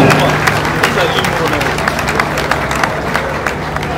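A crowd claps and applauds at a political gathering in Congo, with dense scattered hand claps running continuously under steady crowd noise.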